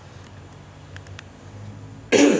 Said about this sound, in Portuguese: eu tô com um pouco de tosse